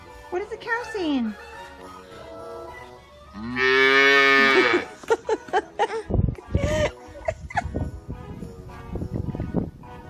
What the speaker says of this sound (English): What is the cow saying?